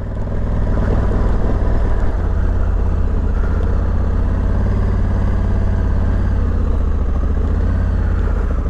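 A Honda Africa Twin 1100 DCT motorcycle engine runs steadily and loudly at close range, a continuous low rumble with no talk over it.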